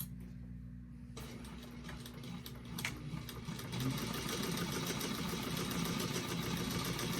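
A sewing machine runs a line of top-stitching up a pressed crease in fabric, a fast steady mechanical whirr that starts after a quiet moment and continues without pause, close and moderately loud.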